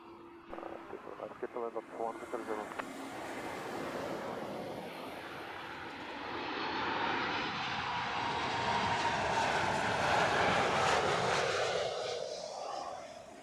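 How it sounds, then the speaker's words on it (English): LOT Boeing 737 MAX 8 landing at Heathrow, a broad jet rumble that builds steadily and peaks as it passes fairly near, following a brief patch of talk at the start. "Lot Max 8 coming in hot, as they always do"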